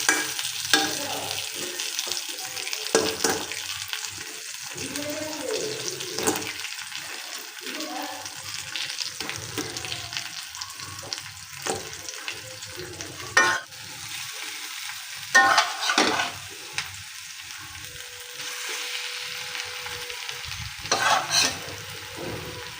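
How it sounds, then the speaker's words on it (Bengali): Crab frying in a pan, a soft sizzle with intermittent stirring clatter and a few louder knocks, moderately close with faint background noise. "আমার কাঁকড় ভাজা হয়ে আসছে"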